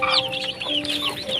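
Hens and their chicks cluck together in a brooding setting, with soft hen clucks under a busy layer of high, rising chick peeps, continuous and close.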